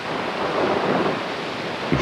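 A waterfall in Bergen roars as a dense, steady, broad rush of falling water, loud and close, with no voices.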